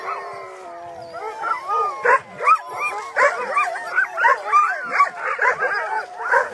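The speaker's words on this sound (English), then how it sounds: "I think we got it almost started. Howling at the moon." A group of sled dogs at night in -40F cold at a race checkpoint on Tolsona Lake breaks into overlapping howls, yips and barks, starting with a single steady howl and swelling into a lively chorus.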